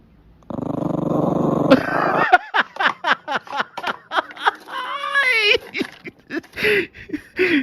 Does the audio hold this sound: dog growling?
yes